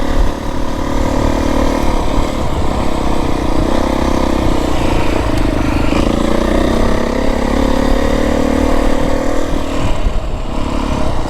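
A Beta 350 dirt bike rides a desert trail, its engine droning loud and close throughout with a steady buzzing tone and slight rises and dips in revs, with no talking.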